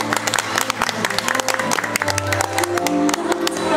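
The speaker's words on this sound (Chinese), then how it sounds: "我掌声给他鼓励一下。" Guests at a wedding banquet clap in a dense burst of applause, loud and sustained, with voices talking over it.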